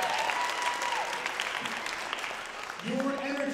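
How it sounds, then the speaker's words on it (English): An audience at a Pittsburgh theater Shakespeare monologue and scene contest showcase claps in steady, full applause throughout, with voices calling out and talking over the clapping. "round of applause for you all being here"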